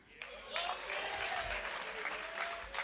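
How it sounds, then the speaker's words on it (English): Audience at a high school senior sports awards ceremony breaks into a big round of applause, dense sustained clapping rising after a brief quiet start. "I kind of had a feeling that one was going to get a big round of applause."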